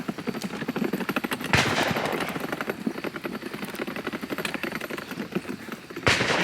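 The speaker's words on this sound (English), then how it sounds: "He's shooting buckshot." Rapid gunfire at a Kalashbash shooting competition, a Zastava M90 rifle firing buckshot: dense, continuous bursts of shots with sharp louder cracks near the start and end, loud and close, no talking.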